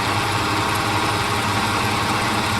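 A Dornier Do J Wal flying boat's engines idle at reduced power around 1450 RPM in Microsoft Flight Simulator, a steady broadband drone with a low rumbling throb that holds constant and fairly loud throughout, with no talk.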